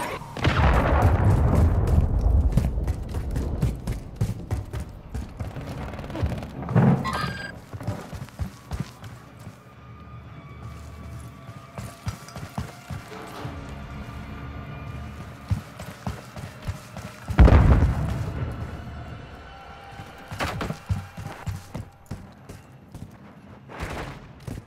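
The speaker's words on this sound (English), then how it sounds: "Friendly cruise missile deployed." Cruise missile strikes in the shooter game Call of Duty: Modern Warfare III land as heavy booming blasts, a big one at the start and another mid-clip, amid scattered gunfire and rumbling battle noise.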